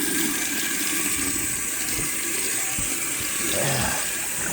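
Hot water running steadily from a tap while cleaning a dirty oily mat, a continuous close hiss and splash with faint thumps and movement near the end.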